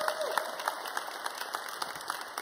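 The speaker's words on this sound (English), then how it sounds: "You can applaud now." An audience at an evening plenary session claps steadily, a dense, even patter of many hands at moderate distance with no voices standing out.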